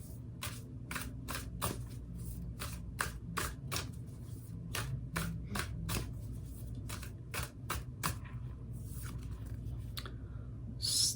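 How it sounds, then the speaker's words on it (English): Sacred Traveler oracle cards are shuffled and drawn by hand, a steady run of crisp, close riffling clicks over a low constant hum, with no voice present. "Let's close it off with the Sacred Traveler Oracle card."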